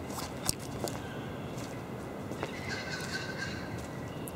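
Assorted bird calls chirp and squawk over a busy background hum, with short sharp cries scattered throughout, in early-morning outskirts of Melbourne.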